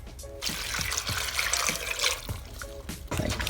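Water trickles and splashes as it is poured into a Power Pressure Cooker XL pot for minestrone soup, in a few short bursts with brief pauses between pours, close and moderately loud.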